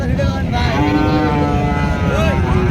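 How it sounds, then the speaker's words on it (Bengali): A large Sahiwal bull at a rural cattle market gives one long, loud, close moo that carries through the whole moment over a busy market background. "আমরা বাজারে সুবিশাল একটি দানব আকারে একটি সার গরু দেখতেছি"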